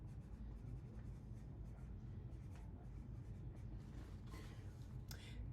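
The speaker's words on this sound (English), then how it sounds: "I'm going to write" A marker scratching out a handwritten thank-you on a cardboard shipping box, with faint scribbling strokes in short bursts over a low background rumble, close but quiet.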